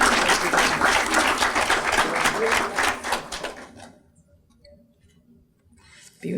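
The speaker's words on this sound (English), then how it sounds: "Round of applause for Catto." Audience applause at an educator of the year awards ceremony for a school staff member, a dense burst of clapping for about three and a half seconds that fades away into near silence.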